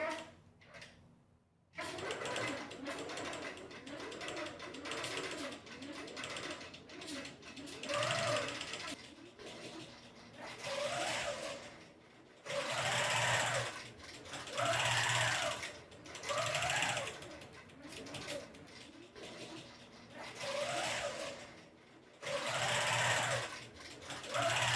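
Computerized embroidery sewing machine stitching a design at a fall festival demo, a steady rapid mechanical whir in repeated loud bursts with brief pauses between runs, close by, with soft voices in the background.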